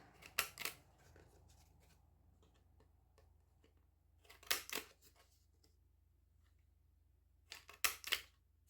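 A corner rounder punch chomps the corners of paper bookmarks, making three sharp, crisp crunching clicks spaced several seconds apart against a quiet background.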